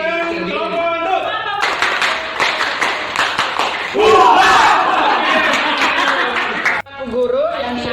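Group applause and cheering from students in a school classroom, a loud burst of mixed clapping and shouts after a counted cue, with voices speaking before and after.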